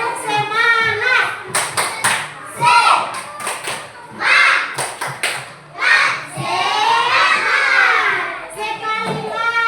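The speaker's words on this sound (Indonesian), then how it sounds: "Tepuk semangat." A group does a rhythmic spirit clap, with short bursts of patterned hand claps mixed with lively voices and chanting throughout.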